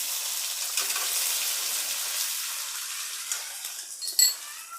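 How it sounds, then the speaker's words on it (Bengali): Garam masala, bay leaf and garlic paste sizzling in hot oil, a bright continuous hiss close by with a few light clinks near the end. "এবার আমি ফোড়ন দিয়ে দিচ্ছি গরম মশলা একটু থেতো করা গরম মশলা দিয়ে দিচ্ছি আর তেজপাতা দিয়ে দিলাম এবার দিয়ে দিচ্ছি রসুন বাটা"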